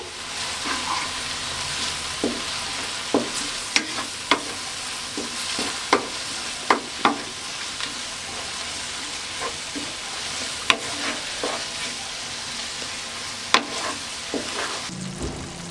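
Spices being stirred into lauki chana dal in a pan, with a steady sizzle under a series of sharp scraping and tapping strokes of the spoon against the pan, close and fairly loud, with no talking.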